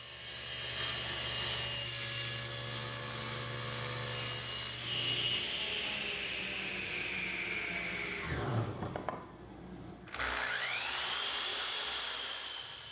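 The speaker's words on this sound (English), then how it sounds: "then use the table saw to cut the legs to width" A table saw rips quarter sawn white oak table legs to width with a steady whining cut, a short pause, then the blade spins back up near and loud.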